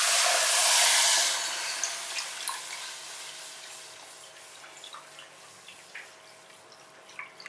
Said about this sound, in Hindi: अब इसमें ऐड करेंगे 2 कप दूध